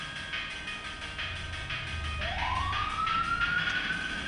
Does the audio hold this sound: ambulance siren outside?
yes